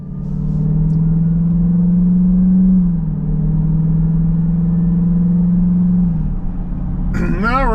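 A 2024 Dodge Durango SRT Hellcat's engine gives a loud, steady low rumble that holds close and constant, with a brief shift in pitch partway through and a short higher-pitched sweep at the very end.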